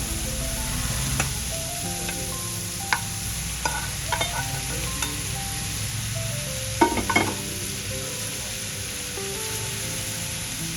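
Egg fried rice being stir-fried in a pan, a steady close sizzle under intermittent scraping and tapping of a spatula, with a brief cluster of clinks partway through.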